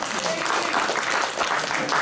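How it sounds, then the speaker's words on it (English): An anime convention panel audience at Anime USA 2013 claps in a short, steady burst, with voices and chatter mixed in under the applause. "You can clap."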